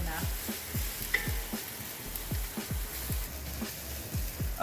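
Onions sautéing in a pan for turkey Indian pilaf, a soft, quiet sizzle close by with a regular rhythm of stirring strokes through the whole stretch and no voices.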